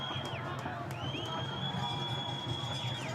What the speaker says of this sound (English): getting loud in the stands, cheering on what they hope will be a goal line stand for their defense.